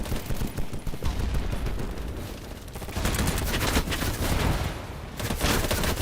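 Sustained video-game gunfire crackles for about six seconds in a multiplayer shooter match, dense and steady with repeated bursts of rapid shots and no clear pauses.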